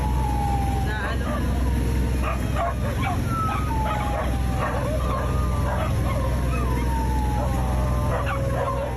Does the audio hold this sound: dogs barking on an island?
yes